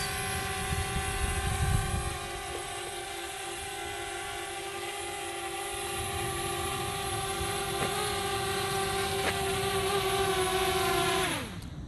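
A small DJI Spark drone hovers and flies back toward a person before landing in a hand, a steady high whining propeller buzz that holds throughout, then drops sharply in pitch and cuts off at the very end.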